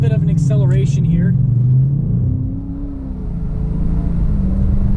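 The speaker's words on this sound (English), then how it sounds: "We are going to take this onto the interstate just to get a little bit of an acceleration with it" A 2019 Dodge Challenger 1320 on the interstate gives a deep engine rumble that rises and then eases off, heard from inside the car, with someone talking over the first part.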